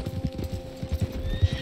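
Horse hooves clip-clopping in Red Dead Redemption 2, a quick run of close, loud hoof thuds in a steady galloping rhythm, with no talk.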